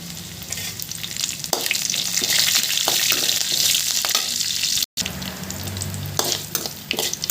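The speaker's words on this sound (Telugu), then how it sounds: "ఇలా వేయించుకోండి కొంచెం కరివేపాకు వేసుకోండి చూడండి కొంచెం కరివేపాకు వేసుకోండి" Flat beans fry in oil with curry leaves in a pan, giving a loud continuous sizzle with stirring scrapes and clinks against the pan, close up, briefly cut by a split-second dropout, and no talking.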